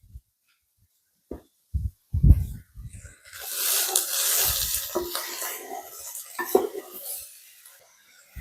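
Meatballs drop into a pot of keto soup with a few soft plops and clunks, followed by a sustained sizzling, bubbling hiss and occasional utensil scrapes against the pot, fairly close and moderate in volume.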